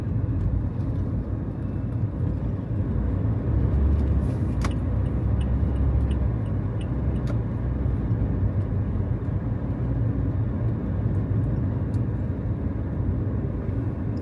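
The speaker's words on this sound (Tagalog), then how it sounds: "dito po ay marami ng sasakyan, mga ano din po itong mga sasakyan na ito, papasok sa kanilang mga kanya-kanyang" Steady traffic of many cars on a wet road after overnight rain in New Zealand, a continuous loud broadband rumble and tire hiss with no gaps, one vehicle briefly standing out near the middle.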